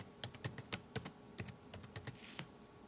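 Quick bursts of keystrokes on a computer keyboard while a login password is entered, light uneven clicks close up with no speech.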